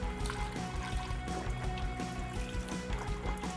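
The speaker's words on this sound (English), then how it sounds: "then you're just gonna pour it all in." Chicken broth poured into a pot on medium-high heat, a steady liquid gush and splashing that stays even in level from start to finish.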